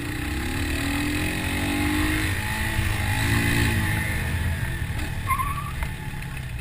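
A 2020 Bristol Classic 250 motorcycle at high speed, its engine a steady droning roar with wind rush that swells slightly midway, heard up close and alone with no talk.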